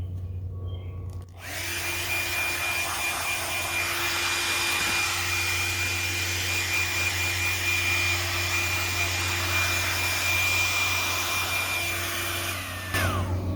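A hair dryer blows on a newly hatched chick, giving a steady, close, continuous rushing whir with a thin tonal whine that runs unbroken for over ten seconds before cutting off.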